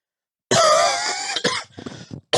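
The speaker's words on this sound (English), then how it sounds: "I just have this cough that's lingering" A lingering cough from a person on a podcast, one long rough cough burst followed by a few shorter hacking coughs, close and loud in an otherwise quiet room.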